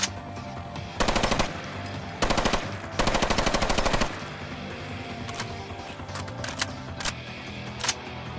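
An MK18 CQBR rifle fires in Fallout 4 in three loud, rapid automatic bursts, followed by a few single sharp shots and clicks.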